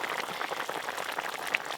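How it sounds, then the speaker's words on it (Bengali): Sour fish-roe curry bubbling in a pot, a soft steady simmer of small popping bubbles, faint and close, with no voices over it. "ডিম দেওয়ার পর টকটা বেশ ভালো করে ফুটিয়ে নিয়েছি"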